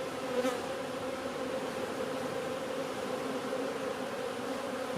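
Dense, steady buzzing of many honeybees swarming close by, a continuous droning hum without pause.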